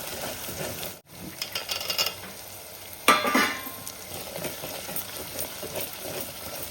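Onions frying in a pan for mushroom curry give a steady, close sizzle with occasional stirring scrapes. A brief dropout comes early and a louder burst follows midway.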